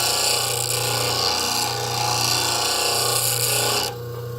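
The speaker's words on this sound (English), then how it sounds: "touch this to the wheel, change my angle slightly, and we'll go ahead and grind that" A plane blade pressed against a spinning grinding wheel gives a loud, steady rasping grind with a low motor hum beneath it. It runs continuously and cuts off sharply just before the end.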